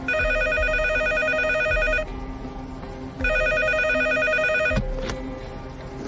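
A telephone rings with an incoming call in a Chinese crime drama, two long bursts of loud electronic trilling separated by a short pause, close and without talk.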